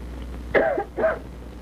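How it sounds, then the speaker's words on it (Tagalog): Two harsh, tight coughs come in quick succession from one person, close and fairly loud, against a quiet background. "Ang higpit ng ubo mo eh."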